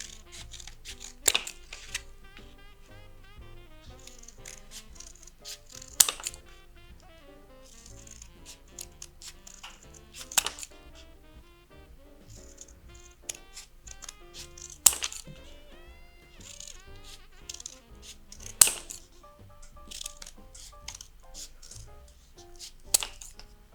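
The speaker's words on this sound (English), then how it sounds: "take your pair of scissors and you're going to cut across these lines" Scissors cut across cardboard toilet rolls to make rings, giving a series of sharp crunching snips spaced every few seconds over soft background music.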